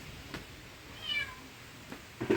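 A kitten meows in short, distinct cries, spaced apart and close by, as it is about to be bathed in shampoo-mixed water.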